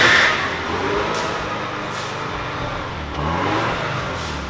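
A used Mazda RX-7 FC with its rotary engine running and in need of an exhaust, giving a steady, rough mechanical drone at close range with a slight surge partway through and no talk over it.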